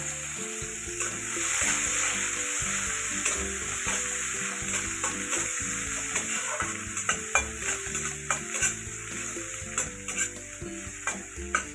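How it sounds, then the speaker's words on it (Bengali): Onions frying in oil in a pan for an aubergine and poppy-seed dish, a steady close hiss of sizzling with scraping stirs and spatula knocks growing more frequent toward the end, no talk. "এগুলো ফ্রেশটার মতো করে ভেজে নেব"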